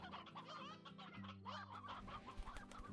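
Hens and a rooster in the Slime Rancher video game cluck repeatedly in quick, bubbly bursts, close and clear, with no talking over them.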